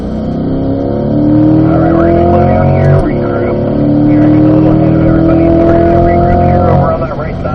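A Corvette accelerates hard on a race track, its engine note rising steadily through gears with a brief shift dip, loud and close from start to finish.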